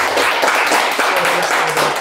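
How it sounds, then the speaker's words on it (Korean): An audience at a Korean salon talk in a hanok applauds the speaker, a loud, dense burst of clapping close by, brief and steady with voices mixed in. "박수 한번 부탁드립니다"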